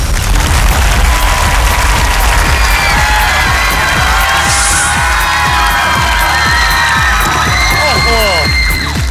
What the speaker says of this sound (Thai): เสียงกรี๊ดสนั่น